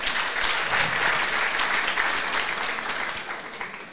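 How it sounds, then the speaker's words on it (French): Audience at a Miss Level Up 2023 pageant election clapping for a contestant, sustained dense applause at a steady level throughout with no break. "Sous vos applaudissements, Andem."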